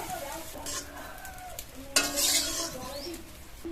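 Small-cut potatoes frying in oil for an egg and cabbage dish, a steady sizzle broken by spatula scrapes and clinks against the pan, with a louder stir burst midway.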